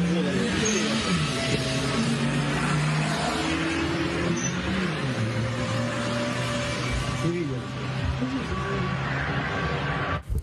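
Car driving on a road in Ukraine with a window open, steady loud engine and road rumble with wind noise throughout, a slight dip near the end, with people talking over it.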